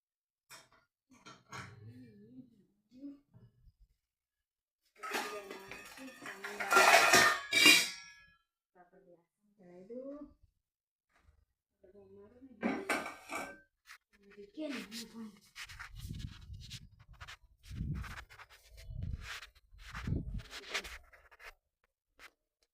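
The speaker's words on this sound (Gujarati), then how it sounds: "વાસણ ચડાવી દઈએ ફટાફટ વાસણ ચડાવી પછી જમવાનું બનાવીએ" Cooking pots and vessels are handled and set on a home stove, giving a few scraping, clattering bursts between stretches of talk.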